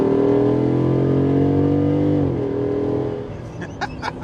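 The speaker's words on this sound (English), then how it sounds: "I'll wait till this car passes" A car passes on a road beside a parked custom Jeep Wrangler JL build, its broad engine and tyre sound loud and steady for about two seconds before fading away, followed by a few faint clicks.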